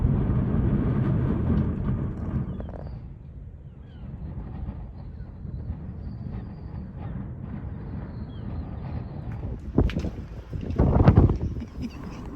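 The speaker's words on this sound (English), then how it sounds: "Can you hear that wind?" Strong wind blows across a campsite in Cornwall, a continuous rumbling roar that swells and fades, with a few louder gusts near the end.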